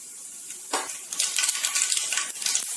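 Mustard seeds, fenugreek, cumin and black pepper splutter in hot sesame oil: a quiet start, then a burst of dense, crackling pops that keeps going close by.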